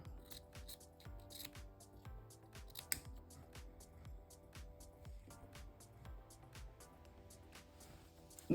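Scissors snip the ribbon tails of a candy apple bow, a run of quiet, repeated close cuts and rustles in a steady rhythm.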